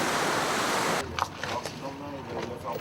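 A warm-water right-hand surf wave breaks along a Maldives reef with a loud, rushing roar of surf for about a second. It cuts to quieter wind and water noise as a voice speaks.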